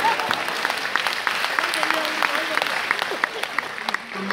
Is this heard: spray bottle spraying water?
no